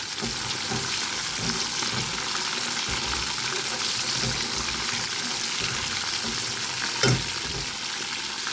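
Prawns sizzle steadily in hot oil, a dense crackling hiss throughout, close up, with a brief clink partway through.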